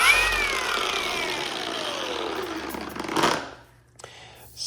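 A Shinemate EB351 cordless polisher spins freely with a high whine that slides downward as it winds down, then cuts off near the end, leaving brief faint clicks.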